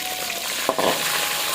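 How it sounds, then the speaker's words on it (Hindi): Salted fish pieces fry in a pan for a fish karahi, a loud, steady sizzle broken by one brief clatter partway through. "मैं मछली फ्राई कर रही हूँ"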